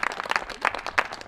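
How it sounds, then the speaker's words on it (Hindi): Audience applause at a theatre and dance academy event, with a brief burst of dense, close clapping in an irregular rhythm and no speech over it. "आपकी जोरदार तालियों के बीच"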